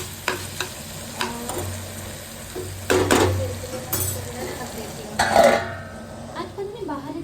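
Vegetable curry sizzles in a pan at home while a spoon scrapes and stirs it in bursts, with a soft frying hiss underneath, clinks against the pan, a cough and some nearby talk.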